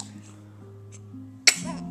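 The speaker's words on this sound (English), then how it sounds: "You gotta work on that sneeze a little bit." A baby lets out one short, sharp sneeze near the end, following a brief stretch of faint background hum and quiet sounds.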